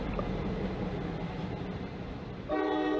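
Train rumbling past with a steady low roar, joined near the end by a loud sustained horn blast with a rich chord-like tone, heard close by.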